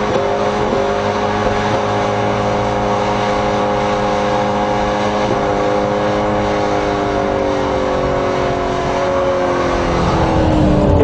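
A 2010 Ford Mustang Shelby GT500 V8 pulls hard under acceleration, its loud continuous engine note climbing through gears with rising harmonics throughout, heard alone without talk.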